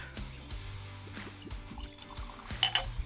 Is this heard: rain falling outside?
no